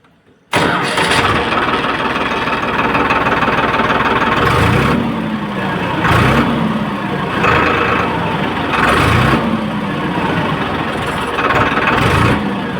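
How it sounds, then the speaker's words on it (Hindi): Farmtrac tractor diesel engine cranking and catching, then settling into a loud, close idle with a steady chugging rumble, revved up several times in repeated swells before dropping back. "फिर अपन ने पहले ट्रैक्टर की साउंड चेक करो।"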